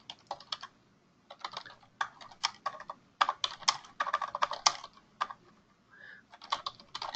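Computer keyboard typing in bursts of quick, close, crisp key clicks separated by short pauses, fairly quiet and with no talking over it.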